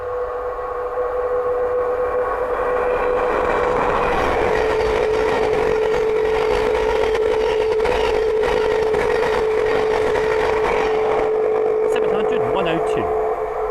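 A Thameslink Class 700 electric train on the Horsham to Peterborough service passes at Sandy on the East Coast Main Line, a loud, steady rushing roar with a sustained tonal hum that fades out toward the end.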